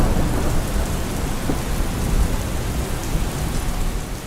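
A dense, constant hiss of heavy monsoon rain in Mangaluru, with low thunder rumbling beneath the downpour and no voices.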